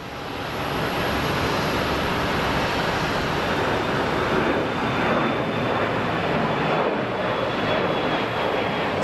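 Envoy airliner taking off at Phoenix Sky Harbor airport, a loud sustained jet engine roar at full takeoff thrust, broad and steady throughout with no talk.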